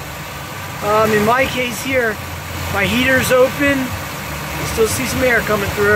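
A GM 3400 engine in a Pontiac runs steadily at around 2000 RPM, a continuous close mechanical hum and whir under a man's speech throughout.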